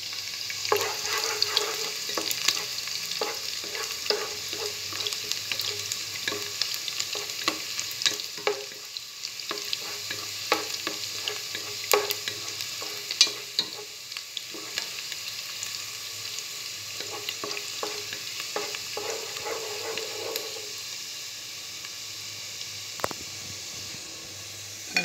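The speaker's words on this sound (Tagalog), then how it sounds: "Lagay na po natin yung garlic." Garlic cloves fry in hot oil in a pan for sotanghon, a continuous close sizzle and hiss with scattered crackles and occasional stirring scrapes throughout.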